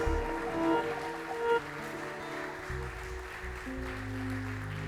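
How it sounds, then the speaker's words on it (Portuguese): A congregation applauding during a Wednesday evening church service, a steady wash of clapping that swells over sustained organ-like music tones throughout. "Então aplauda ele, ele está aqui."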